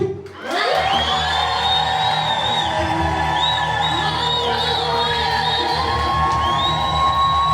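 A large church congregation at a pastor's ordination ululates and cheers after a sharp opening burst, sustaining high trilling cries and whoops over a loud, continuous crowd roar until the end.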